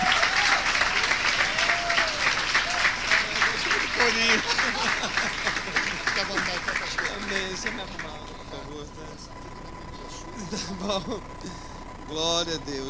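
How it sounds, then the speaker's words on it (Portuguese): A church congregation bursts into loud, sustained applause for the Lord with rhythmic clapping that fades after several seconds, followed by Portuguese-speaking voices and scattered claps. "vamos aplaudir o Senhor pela vida do pastor Jorge Miranda, amém?"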